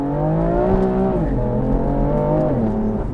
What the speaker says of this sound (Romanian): Ai văzut cum o turează? O turează și după aia o bagă în viteză.